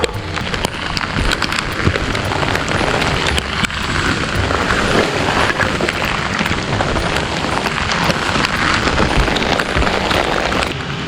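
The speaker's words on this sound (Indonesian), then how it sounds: "Kabut, hujan juga." Steady rain falls on a foggy, narrow mountain hiking trail scarred by landslides, a dense continuous patter with no voices.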